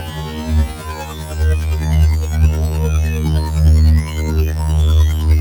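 Sawtooth wave run through a recreated AU5 color filter patch, a loud sustained synth drone with strong harmonic bands and a throbbing, wobbling tone that swells and pulses in uneven waves.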